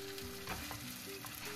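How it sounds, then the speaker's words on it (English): Beef with onion and green onion stems stir-fried in a pan, a steady close sizzle and crackle of frying with occasional scraping stirs, no voices. "add the onion and the green onion stems, and stir frying everything until the beef is medium cooked"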